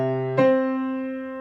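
Piano playing a broken triad and octave exercise in B position, a sustained chord then a new note struck near the start, ringing and decaying alone at moderate loudness.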